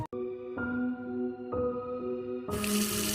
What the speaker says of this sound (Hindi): बाथरूम के टैप से पानी निकलता हुआ आवाज गेस्ट को सुनाई देता है।